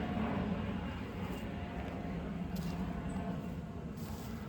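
An airplane flies overhead above a garden, giving a steady broad roar that stays fairly distant. Faint outdoor ambience sits underneath, and no one talks.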